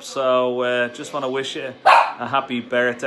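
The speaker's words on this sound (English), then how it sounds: "Sorry about the dog barking in the background." A dog barks a few times in the background, the barks brief and partly masked by someone speaking close to the microphone throughout.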